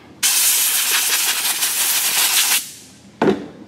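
Compressed air blowing off cleaned transmission parts from a 2009 Volkswagen Touareg, a loud steady close hiss lasting a couple of seconds, then a second short blast.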